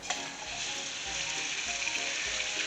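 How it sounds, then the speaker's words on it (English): Very thin steak frying in coconut oil in a really hot pan, a steady close crackling sizzle throughout with faint low thuds, no talk. "Got some coconut oil in there. I'm going to get this fried up real quick."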